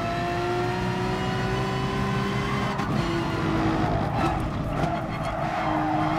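Race car engines and tyre skids in Gran Turismo Sport, a loud sustained engine whine with rising pitch and scrubbing tyre squeal as cars battle closely, no talking.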